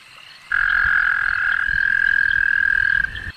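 A frog croaks loudly in one long sustained trill lasting about two and a half seconds, close and clear with no talk over it.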